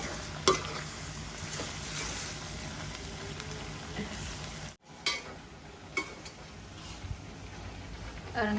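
Food being stirred and sautéed with salt in a pan, a steady soft sizzle with occasional scraping and clinking of a utensil, faint and continuous, with a voice speaking quietly at times.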